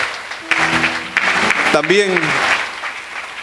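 A church congregation applauds steadily throughout, a dense crowd clatter running beneath someone speaking in Spanish over it.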